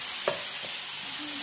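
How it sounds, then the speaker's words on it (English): Food seasoned with salt, garlic, pepper and Maggi drops sizzles in a frying pan, a steady crackle with a couple of brief scrapes of stirring, close and alone. "Okay. I fry."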